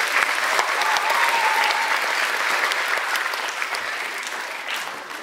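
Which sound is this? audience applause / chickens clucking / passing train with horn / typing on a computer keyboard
audience applause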